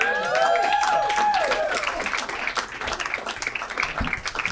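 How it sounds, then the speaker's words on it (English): A stand-up comedy audience gives a comedian a burst of applause and clapping. Whoops and whistles sound at the start, then the clapping thins over a few seconds. "Keep it going for Adam Carolla"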